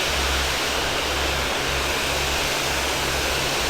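Water rushes steadily through a deep spillway with a loud, unbroken roar that stays constant throughout.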